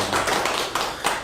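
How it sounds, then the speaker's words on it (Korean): Applause from a church congregation at a Sunday worship service, a short burst of many hands clapping together with a few rising swells, moderately loud and close, without speech over it. "예, 박수 한번 부탁드리겠습니다."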